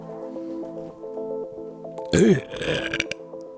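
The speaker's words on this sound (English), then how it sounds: "Burp us in, burp us out." A single loud, gurgling burp bursts out after a stretch of steady tonal background hum, trailing off into a rough, drawn-out tail.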